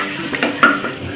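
Onions sizzle and get stirred in a pan while tomato rice is being cooked, with a few soft scraping stirs over a light steady frying hiss, close and fairly quiet.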